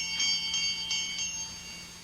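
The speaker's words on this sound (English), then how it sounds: "I'm trying to see where that bell came from." A small bell in an old-time radio mystery drama rings in four quick, light strikes, fairly faint over a quiet background and fading out after the last one.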